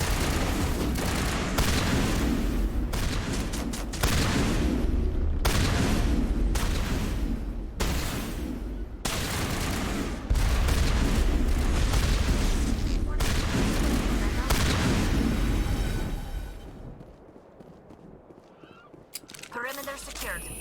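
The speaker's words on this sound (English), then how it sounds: "This shotgun is great." Repeated shotgun blasts boom in Mass Effect, a rapid run of loud shots in bursts with brief gaps for most of the stretch, then quieter game sounds near the end.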